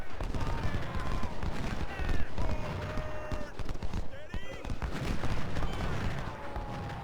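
Rapid volleys of musket fire from a lone skirmisher in a Civil War strategy game, set in the First Battle of Winchester, crackling under a steady bed of battlefield noise, distant shots and music.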